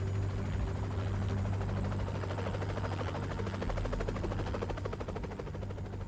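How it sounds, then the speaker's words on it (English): A helicopter flies nearby with a steady, loud rotor thump and a droning engine buzz that holds constant throughout, with no talking. "Polygamous leader Warren Steve Jeffs extradited via helicopter from the state of Nevada today"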